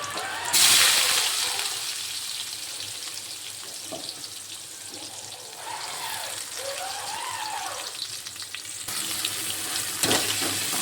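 Onion tipped into a frying pan with crushed garlic, a sudden loud hiss of sizzling oil that settles into a steady crackling fry, swelling again toward the end.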